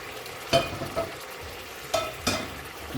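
Water reduced from a fish-frying pan is poured back into a hot pan while Rupchanda bhuna of silver pomfret is cooked, giving a soft sizzle with a few sharp scraping stirs against the pan.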